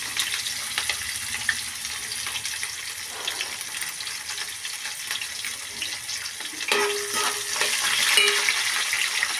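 Green chilies and onion pieces sizzle steadily in hot oil in a pan while upma is being made, a continuous close hiss with a few faint clinks toward the end and no talking.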